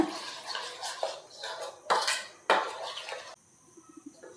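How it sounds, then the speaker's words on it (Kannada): A metal spoon stirring ground spices such as cumin and coriander powder into a paneer marinade in a bowl, giving several close, bright clinks and scrapes against the dish, then a quiet pause. "ನಂತರ ನಾನು ಇದನ್ನು ನೀಟಾಗಿ ಮಿಕ್ಸ್ ಮಾಡ್ಕೋತೀನಿ ಸ್ಪೂನ್ ಸಹಾಯದಿಂದ"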